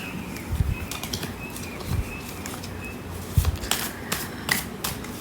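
A tarot card deck is handled and shuffled, giving soft, papery riffles and flicks in uneven bursts, with a few sharper snaps near the end, close and moderately quiet with no talking.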